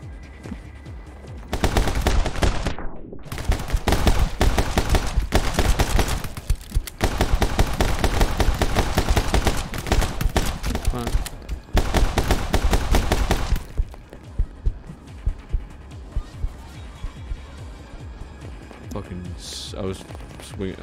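Loud, dense bursts of rapid gunfire in My Friend Pedro crackle almost nonstop in long volleys broken by brief pauses, then thin out into a few scattered shots over quieter background sound.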